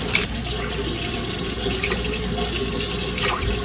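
Warm water running steadily from a kitchen tap into a bowl for proofing bread yeast, a continuous close splashing hiss with no talk.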